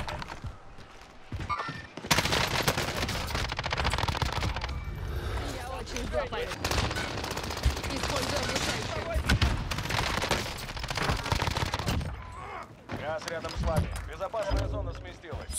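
Turret machine gun fire in Warzone hammers in long, rapid bursts of loud, close shots over several seconds, with brief pauses and voices talking throughout.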